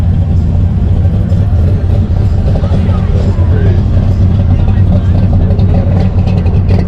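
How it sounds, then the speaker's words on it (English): A Corvette engine at a car show, with a loud, steady low rumble at idle dominating throughout while a person talks over it. "I love the sound of this car."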